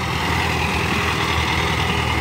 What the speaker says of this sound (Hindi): चलता हुआ ट्रैक्टर